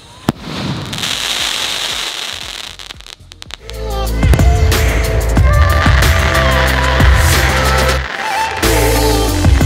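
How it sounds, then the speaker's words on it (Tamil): Diwali aerial firecrackers burst overhead at night, a loud rapid crackling barrage swelling into dense continuous popping and booms for several seconds, close and intense. "உள்ள போய் வந்து அடுத்த வெடி வெடிக்கிறோம்"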